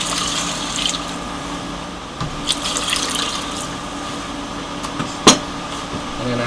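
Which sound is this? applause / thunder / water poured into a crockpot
water poured into a crockpot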